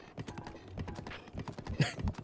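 Rapid, rhythmic clip-clop of horse hooves at a steady trot in the video game The Legend of Zelda: Breath of the Wild, close and continuous with no talk.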